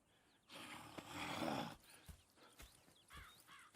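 Horses in the Red Dead Redemption 2 video game: a loud burst of snorting and whinnying, then scattered hoof clops and short whinnies, fairly close, with no voices over them.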